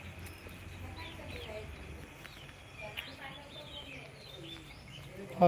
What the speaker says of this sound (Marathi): हा स्पेशल कोंबडा जो गावटी कोंबडा बघा एकदम असा चालला आहे